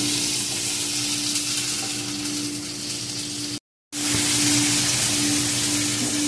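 Capsicum, beans and eggplant sizzle loudly as they are added to a frying curry in a home kitchen in the Philippines, a steady close hiss with a brief gap of silence partway through.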